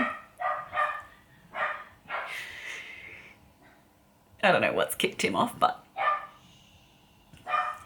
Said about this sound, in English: he's got to have a bark and get it out of his system